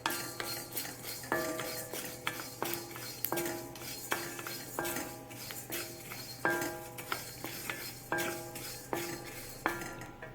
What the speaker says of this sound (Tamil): மல்லி, மிளகு, பெருஞ்சீரகம் 3 ஒன்றா தட்டி வறுத்துடலாம்